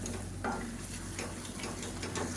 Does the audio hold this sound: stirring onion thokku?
yes